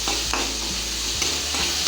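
Chopped garlic, ginger and green chilies frying in a pan for egg vegetable noodles, stirred with steady scraping strokes over a loud, constant close-up sizzle.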